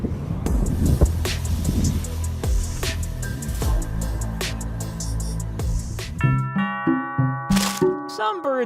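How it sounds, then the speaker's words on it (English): A doorbell chimes near the end as several clear ringing tones, after a busy noisy stretch with some rumbling. "Some birds get very nervous when they hear a doorbell."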